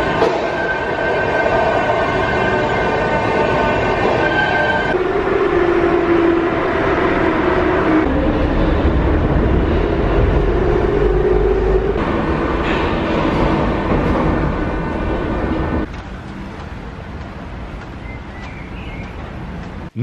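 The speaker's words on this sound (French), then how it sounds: "Le métro est juste derrière nous" Sofia metro train rumbling close by with rising motor whine and steady rail noise, shifting in pitch as it moves, then dropping to a quieter hum near the end.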